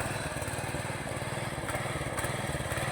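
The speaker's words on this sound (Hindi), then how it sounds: "यहाँ पे ट्रैक्टर के थ्रू यहाँ पे हल लगाया जा रहा है।" A tractor pulling a plough through a village farm field, its engine chugging steadily at close range with a continuous, even throb and no pauses.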